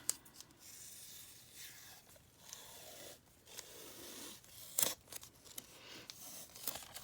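Paper being torn for a journal page: uneven ripping and rustling, with a few sharper tearing bursts and scraping, close and fairly quiet with no voices.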